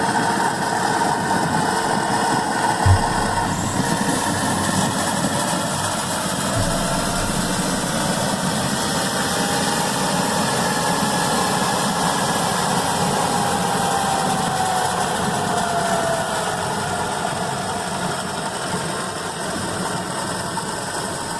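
A small engine fitted with a Stromberg carburetor runs on a ground power unit, giving a steady, even mechanical drone with a faint clicking, whirring layer throughout.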